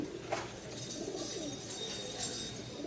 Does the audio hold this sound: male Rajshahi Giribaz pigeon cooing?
yes